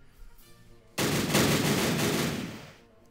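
British Highland infantry open fire in the WW1 strategy game Battle Academy: after a quiet second, a loud crackling volley of rifle shots erupts and rolls on for about two seconds before fading.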